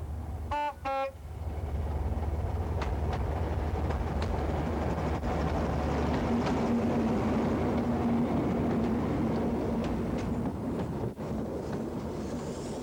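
A British Rail Inter-City 125 high-speed train in North Norfolk sounds two short horn toots near the start, followed by a loud, steady rumbling roar that builds and holds close by. No one speaks.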